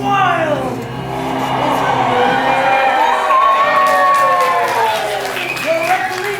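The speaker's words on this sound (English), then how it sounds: "the crowd is going wild" A large crowd cheers, shouts and whoops with scattered applause at a cheese-themed hockey game between mice and the Ring Rats, a loud, steady roar with rising calls throughout.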